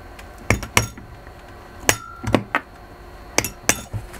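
A hammer smacks a pin out of a Garrett GT1752 turbocharger, landing about eight sharp metallic blows in uneven pairs and singles, loud and close, with quiet pauses between strikes.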